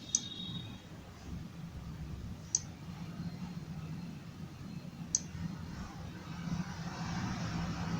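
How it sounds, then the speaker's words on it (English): Three faint, crisp clicks from a computer mouse, a few seconds apart, stand out over a steady low room hum with no talking. "I'm gonna select the picture and right click on this."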